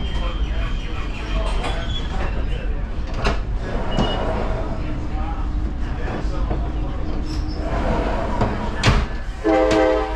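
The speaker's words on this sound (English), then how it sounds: "stand clear, closing doors." Interior of a Tri-Rail commuter train in South Florida as the doors close, with a steady rumble of the car, brief thuds and a short chime near the end, while an announcement voice speaks.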